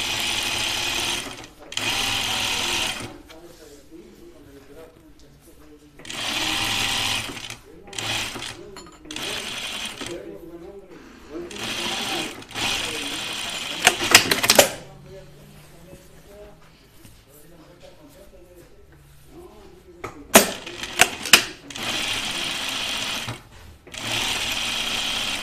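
Sewing machine stitching French seams on a Grainline Studio Willow tank or dress, running in repeated bursts of steady whirring with pauses between, while a person talks over and between the runs.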